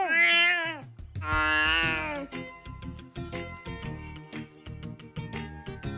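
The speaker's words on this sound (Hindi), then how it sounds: "ये बिल्ली कह रही है कि उसको नहाना है" Cartoon cat from an animated Bal Ganesh film meows in two loud, drawn-out cries, followed by a busy stretch of overlapping voices and music.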